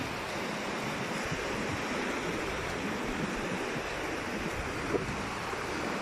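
Ocean waves roll in at Bagasbas Beach as a steady, broad wash of surf, with wind buffeting the microphone throughout and no voices.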